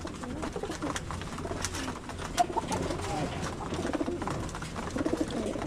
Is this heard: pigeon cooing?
yes